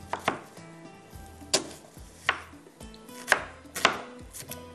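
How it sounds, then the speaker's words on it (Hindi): Onions are chopped coarsely with a knife on a board, giving about eight crisp, uneven chops spaced roughly half a second apart, close and clear, with no talk. "इसी तरह से मैं दूसरे प्याज को भी कटिंग कर लेती हूँ"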